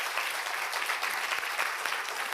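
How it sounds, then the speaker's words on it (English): Audience applause at a Bharatanatyam arangetram dance recital, a dense, steady wash of many hands clapping, moderately distant and even throughout with no voices on top. "Give them a big round of applause."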